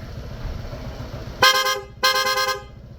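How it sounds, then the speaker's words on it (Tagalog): Corsa aftermarket horn on a Honda PCX160 scooter gives two long, loud harmonic honks, each about half a second, separated by a short gap over low background rumble. "Corsa horn, long press, rapid."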